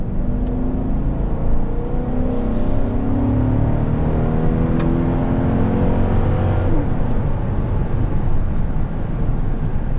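Interior drone of a 2020 Chevrolet Suburban Z71 with its 5.3 engine pulling under acceleration, a steady loud low rumble with gradually rising engine tones and road noise, no talking.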